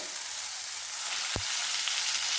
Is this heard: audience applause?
no